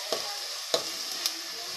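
Tomatoes and ginger garlic paste fry in a pan for hotel-style veg kurma, a low hiss of sizzling under three quick, distinct scrapes of a spoon stirring the mixture.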